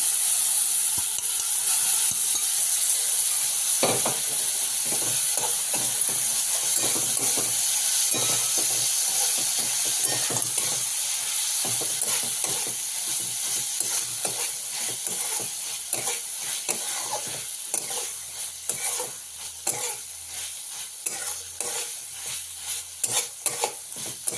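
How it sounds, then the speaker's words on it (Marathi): Cooked moong beans being stirred into a hot pan for moong usal, a steady loud sizzle and hiss under repeated scraping stir strokes that run without pause through the whole stretch, with no talking. "जे आपण शिजवून घेतलेलं मूग आहे ते त्याच्यामध्ये आपण मिक्स करून घेऊया"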